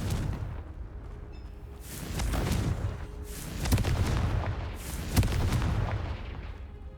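Repeated blasts of the Confringo fire spell in Hogwarts Legacy, heavy booming bursts recurring every second or so over a rumbling, crackling background.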